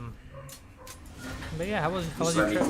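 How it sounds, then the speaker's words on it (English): A small dog barks and yips indoors in short sharp bursts, rising in pitch and growing louder toward the end, with a person talking casually over it. "She's a small dog, but she packs a punch when it comes to her voice."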